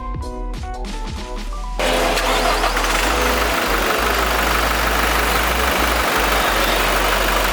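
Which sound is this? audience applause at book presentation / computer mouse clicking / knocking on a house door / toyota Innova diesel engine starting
toyota Innova diesel engine starting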